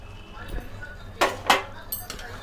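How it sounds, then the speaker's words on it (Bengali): A metal lid lifted off a pot of chickpea ghugni, a few sharp clinks and scrapes of metal on metal, two bright clanks close together, then a softer rattle, over low room noise. "আমরা ঢাকাটা খুলে একবার দেখে নেব"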